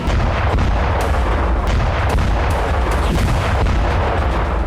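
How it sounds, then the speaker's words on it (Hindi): Explosions in Kyiv, heard as a loud, dense rumble broken by several sharp blasts at irregular intervals, with no voices. "करीब 22 मिनट बाद यानी 11:30 पर कीव में धमाके की आवाज सुनाई देने लगी"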